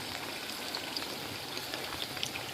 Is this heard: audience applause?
no